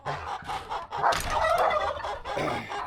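A tom turkey gobbles nearby, a fast, rattling burst of several rapid warbling notes, fairly loud and close, with no talking.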